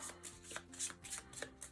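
Cards being shuffled for the Direwild board game, a run of soft riffling bursts and flicks over about two seconds, close and fairly quiet with no talk.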